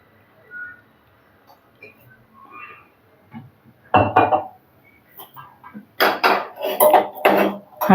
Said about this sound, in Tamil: அடுப்பில் கடாயை வச்சுக்கலாம்.